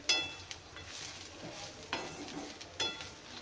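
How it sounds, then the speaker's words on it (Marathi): Grated ridge gourd peel roasting in oil in a pan, a soft steady sizzle broken by several sharp scrapes of stirring, fairly faint and close. "तेलामध्ये एकदम छान भाजून घ्यायचा आहे आपल्याला।"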